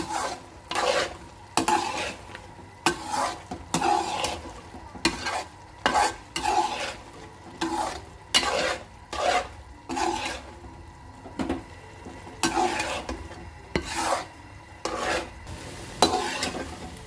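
Carrot halwa with cardamom powder stirred in a pan, a rhythmic series of about two dozen scraping strokes against the pan over a faint sizzle, close and clear with no voices.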